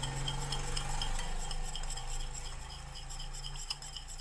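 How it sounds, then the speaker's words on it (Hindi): Spoon stirring a thickened poha chivda batter made with gram flour and sweet soda, quick repeated scraping clinks against the bowl over a low steady background hum. "और इसको अच्छी तरह मिक्स कर लेंगे"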